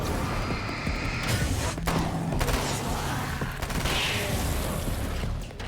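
Submachine gun fire in the video game Alan Wake's American Nightmare: a steady burst of rapid shots with thumping impacts, fairly loud and continuous, under a dense game soundscape.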